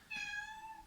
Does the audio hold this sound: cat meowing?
yes